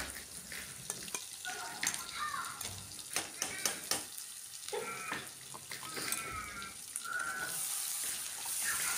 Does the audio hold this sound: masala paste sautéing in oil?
yes